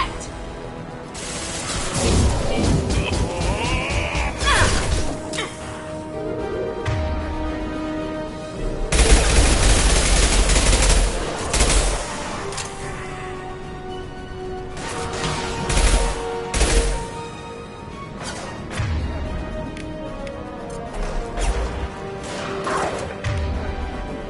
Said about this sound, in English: Taking cover! Firing an impact shot.